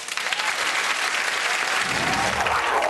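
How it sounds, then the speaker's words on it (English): Studio audience giving a sustained, loud round of applause, dense clapping and crowd noise filling the whole stretch without a break. "please give yourselves a sympathetic round of applause"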